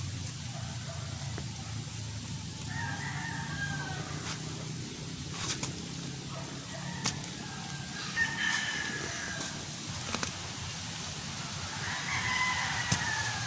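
Several distant rooster crows rise at intervals over a constant hiss like light rain, with occasional sharp taps.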